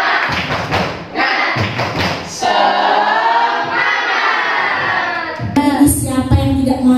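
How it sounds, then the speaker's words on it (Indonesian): A school class does a rhythmic spirit clap (tepuk semangat), with sharp, loud, patterned claps in quick bursts, mixed with children's voices chanting, in a classroom. "Tepuk semangat."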